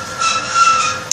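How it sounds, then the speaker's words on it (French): Ongoing noise from nearby building works, a steady loud grinding roar with a faint metallic whine running through it, continuous throughout, with a brief sharp knock at the end. "Excusez-moi pour le bruit, ils font des travaux."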